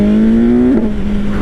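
A 2021 BMW S1000R motorcycle at idle gives one brief throttle blip, a steady close engine drone that rises sharply for a moment and settles back, with no talk.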